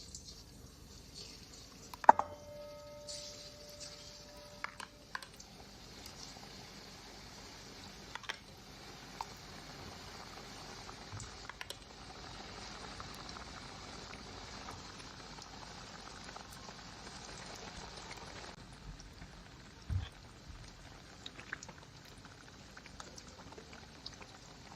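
Besan batter drops sizzle in hot oil for boondi, a steady close crackle and fizz of frying that carries on throughout, with a few sharp clicks and clinks scattered over it and no talking.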